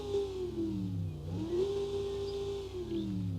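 Simulated V8 engine in an ETK S Series car in BeamNG Drive, revving steadily with a dip and climb in pitch around the middle, a continuous close engine drone with no talking.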